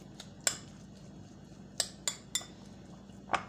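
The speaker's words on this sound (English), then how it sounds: "And mix it." Coleslaw salad being mixed in a bowl, a utensil clinking against the dish about five times at irregular intervals over a faint background hum, fairly close and quiet.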